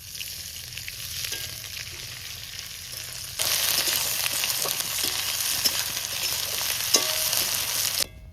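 Chopped onion frying in oil with whole garam masala, dried red chillies, bay leaf and cumin, cooked outdoors in a forest; a soft sizzle swells into a loud, dense hiss partway through, with occasional stirring scrapes.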